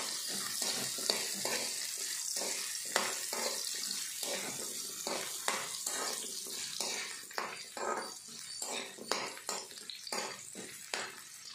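Raw turmeric roots frying in hot oil in a kitchen, a steady bubbling sizzle with crackling pops and occasional scraping of a utensil, moderately loud and continuous without any voices.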